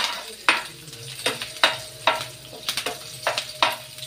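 A coconut dish fries in a pan while a spoon stirs it, giving a steady sizzle with sharp scraping strokes about every half second, close and clear, with no voices.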